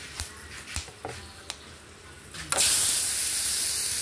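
Chopped onion dropped into hot oil with whole garam masala in a thin wok: after a few light clinks, a loud, steady sizzling hiss bursts in and holds close and continuous to the end.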